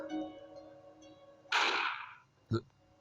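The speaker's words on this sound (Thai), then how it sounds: "เสียงปืน" A loud, sharp blast with a lingering hiss, then a second shorter crack a second later, like game gunfire, close and punchy.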